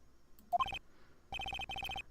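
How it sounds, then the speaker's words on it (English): A telephone rings in the Phoenix Wright: Trials & Tribulations video game, two short bursts of rapid electronic trills separated by a pause, clear and close with nothing else heard. "Someone, who's calling me? Answer that damn phone!"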